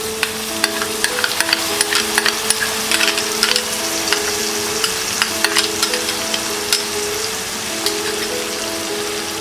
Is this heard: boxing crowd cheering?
no